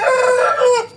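A Japanese Shamo rooster crows once, loud and close, a single strained call cut off at the end.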